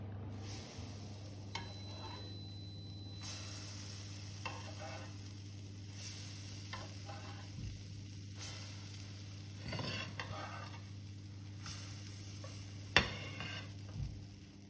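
Small oat-flake pancakes cooking in a pan, a soft sizzle over a steady low hum, with intermittent clinks and scrapes of a utensil, no voices.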